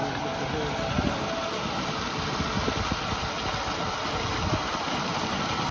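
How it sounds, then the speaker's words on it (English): An engine-driven water pump runs beside a pond in winter, a steady mid-pitched mechanical drone with faint knocking pulses throughout, close and continuous with no pauses. "we got the pump running"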